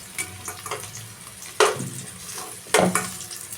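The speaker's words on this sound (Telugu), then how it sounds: "ఇప్పుడు ఆనియన్స్ బాగా ఫ్రై అయ్యాయి కదండి" Onions, dried red chillies and cabbage frying in a pan for cabbage chutney, a low sizzle broken by two sharp stirring scrapes, close and alone without voices.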